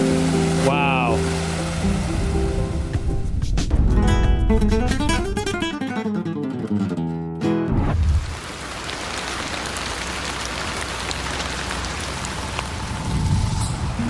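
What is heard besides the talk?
water pouring as a waterfall after heavy rain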